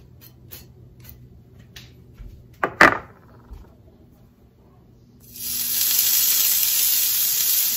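A precooked bratwurst sausage laid on an indoor grill, starting with a loud sharp crackle and then settling into a steady close hissing sizzle after a few quiet knocks and handling sounds.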